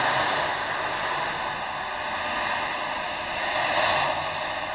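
Opera percussion instruments imitate the sound of sea surf, a loud, continuous hissing wash that swells and recedes gently, with a stronger surge near the end.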